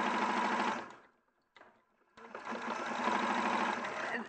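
A domestic sewing machine stitches a quilt seam in steady close bursts, running for about a second, pausing briefly, then whirring continuously again at an even pace.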